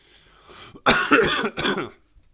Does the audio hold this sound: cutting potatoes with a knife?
no